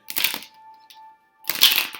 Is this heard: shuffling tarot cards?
yes